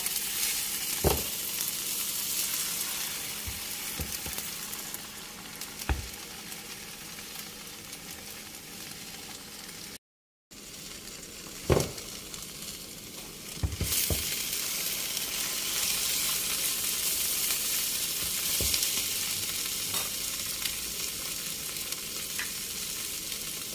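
Eggs frying in a pan with bamboo shoots, a steady loud sizzle that swells partway through, broken by occasional scrapes and clinks of stirring and one brief dropout.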